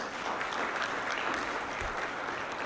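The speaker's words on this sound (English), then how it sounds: "give yourself a round of applause." Audience applause at an inclusive leadership talk, a steady, even wash of clapping from a crowd, moderately distant and sustained without pause.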